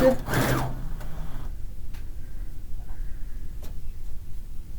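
A home sewing machine runs continuously while piecing a fish-themed quilt, a steady close whir after a brief loud rustle of fabric at the start.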